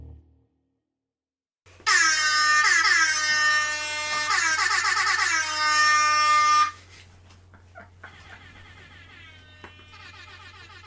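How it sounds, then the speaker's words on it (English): Loud blaring air horns sound in a long sustained burst with stuttering pulses, then quieter horn blasts follow after a pause. "It's just air horns now."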